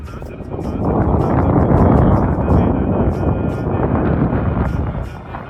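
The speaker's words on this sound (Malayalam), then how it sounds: "കാറ്റ് ഒരു രക്ഷയില്ല അക്രമ കാറ്റാണ് അത് നിങ്ങൾക്ക് ഇതിലൂടെ മനസ്സിലാവേണ്ടത്" Strong wind on Nadukani hill buffets the microphone in loud, continuous rumbling gusts that swell and ease, with no speech over it.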